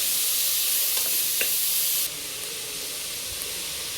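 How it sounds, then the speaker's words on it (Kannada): Tomatoes fry in a pan for a Mysore-style vegetable masala sagu with hirekai, a steady broadband sizzle with a brief clink of stirring, then the hiss drops slightly and carries on evenly, no voices. "ಇದನ್ನು ಒಂದು ಸ್ವಲ್ಪ ಫ್ರೈ ಮಾಡ್ಕೊಳ್ಳಿ ಚೆನ್ನಾಗಿ"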